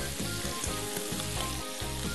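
Pork pan-frying in oil for braised pork with red rice wine lees, a loud steady sizzle and crackle filling the whole moment, with a few brief dips, close up and without talk.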